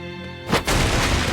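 A destructible wall breaks apart in Tales of Berseria with a loud, close boom. The crash follows a sustained tonal game hum and is followed by a rumbling, crumbling wash of debris.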